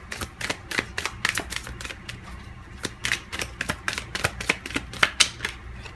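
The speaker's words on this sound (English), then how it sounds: "Yeah, I'm gonna actually pull another card." Tarot cards shuffled and pulled from a deck: a run of crisp, close flicks and taps in irregular bursts, each card snapping sharply, with no talking.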